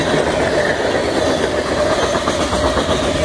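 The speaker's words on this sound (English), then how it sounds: "Probably a trash train." CSX Q711, a westbound freight train, rolls past at close range with loud, continuous rumbling and rhythmic clickety-clack of wheels over rail joints, steady throughout with no voices.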